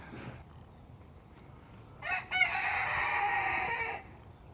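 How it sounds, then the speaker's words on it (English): A rooster in a new barnyard bird compound crows once, loud and close, in a drawn-out call lasting about two seconds after a quiet stretch of faint outdoor background, with no one talking. "We have a new compound for our birds."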